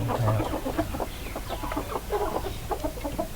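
Chickens cluck continuously on a farm, several birds close together making overlapping short, throaty calls at a moderate level throughout.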